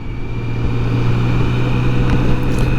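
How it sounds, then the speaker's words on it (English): A BMW K1600 GTL motorcycle engine-brakes on a road ride, giving a loud, steady low engine drone with wind rush, close and continuous, with a slight rise near the end. "Now instead of using the brakes, I do use engine braking."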